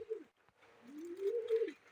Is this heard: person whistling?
no